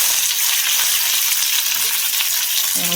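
Mustard seeds and curry leaves splutter in hot oil with a loud, dense, continuous sizzle and crackle, close up and steady throughout, with no voices over it.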